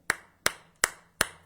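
Four sharp, evenly spaced hand claps ring out close and loud in a steady rhythm, with no voices, as people applaud a televised ritual performance.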